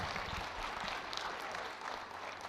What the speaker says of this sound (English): audience, let's give these kids a great round of applause.